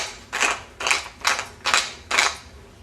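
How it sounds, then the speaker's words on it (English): Cracked pepper ground from a pepper mill while cooking: five evenly spaced bursts of gritty, crackling grinding, each about a third of a second, close and clear with no talking. "Now I'm going to add some cracked pepper."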